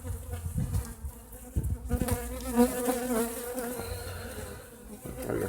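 Honeybees buzzing inside a top bar hive while drawing new comb, a close, continuous droning hum with wings rising and falling as individual bees pass near.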